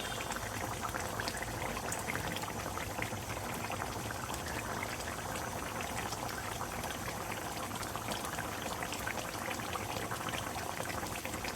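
Rui fish curry (bhuna) with green chilies and coriander leaves simmers in a covered pan, giving a faint, even bubbling and soft crackle that continues without a break.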